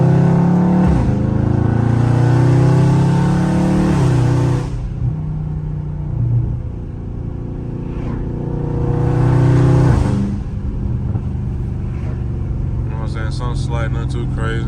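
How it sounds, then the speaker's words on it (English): A Dodge Scat Pack with a catless mid-pipe exhaust revs and accelerates in deep, raspy surges from inside the cabin, with the engine roaring loudly, easing off between pulls, and someone talking over it. "My car is, you know what I'm saying, catless mids, for folks that want to know how my car sound the way it sound."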